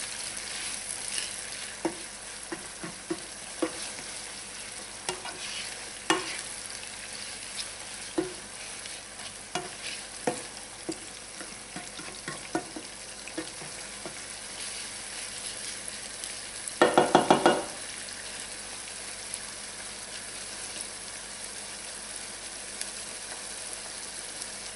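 Shrimp étouffée ingredients sauté in a pan, a steady sizzle running throughout with repeated scrapes and clinks of stirring and a brief louder burst of frying near the end, with no talking.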